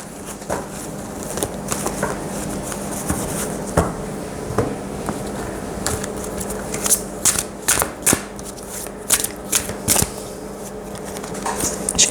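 Oracle cards being shuffled by hand, a steady run of soft papery riffles and slaps, close and moderately loud, with a few sharper snaps toward the end and no talk over it.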